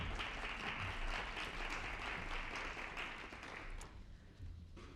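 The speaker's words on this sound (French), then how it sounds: "On applaudit Eva Géraud." Sustained audience applause welcoming a speaker at the opening of a civic engagement day, steady dense clapping from a crowd that thins slightly toward the end.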